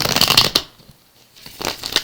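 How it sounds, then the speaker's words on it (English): Tarot cards being shuffled by hand in two bursts of crisp riffling and flicking, close and fairly loud, separated by a short quiet pause. "I've just got a few shuffles left to go."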